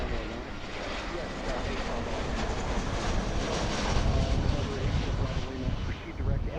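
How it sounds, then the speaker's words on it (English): Aircraft landing at Philadelphia airport, a broad steady roar of jet engines swelling slightly and staying loud throughout, with radio chatter and a voice underneath. "It's a pretty cool view of the aircraft landing."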